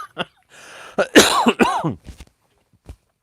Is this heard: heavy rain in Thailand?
no